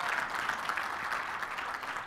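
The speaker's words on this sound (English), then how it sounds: "Give me a clap if that makes sense." Brief, fairly faint clapping from an audience at a digital marketing talk, a steady patter of many hands with no voices over it.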